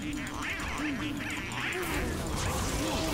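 Repeated duck quacks at the Team Fortress 2 Halloween carnival shooting gallery, several clear quacks in a row over a busy, noisy game background.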